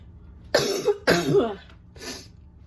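Three harsh coughs in a row, close and fairly loud, the last one a little softer, with no talking.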